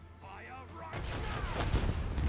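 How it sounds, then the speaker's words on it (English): Spaceship dorsal cannons fire in Warhammer 40k: Rogue Trader, a burst of booming gunfire-like blasts that swell loud after a quiet second and rumble on to the end. "we'll fire our dorsal cannons at them"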